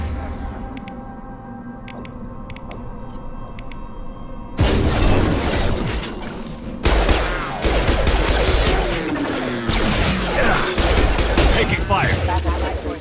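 Gunfire rattles through a firefight against hostile mechs in Mass Effect 2, beginning with a quieter stretch of tones and chatter, then loud, dense bursts of shots and impacts under voices calling out.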